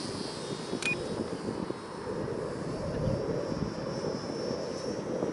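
A Volantex SonikRC Corsair RC model plane flies with a steady, continuous motor drone and whine, holding fairly constant in loudness with no talk over it.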